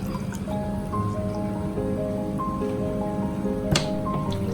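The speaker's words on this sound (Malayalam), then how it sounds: "ഇനി ഇതിലോട്ട് വെള്ളം ഒഴിക്കുക" Water pouring and splashing into a jug for lemon juice, a steady liquid gurgle with a sharper clink near the end; no speech.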